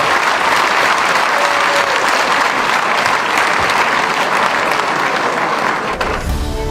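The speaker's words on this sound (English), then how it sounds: "getting a great reception from this back Crucible crowd" A large snooker crowd at the Crucible Theatre applauds Jimmy White in a sustained, loud, dense wash of clapping that holds steady throughout and thins slightly at the end.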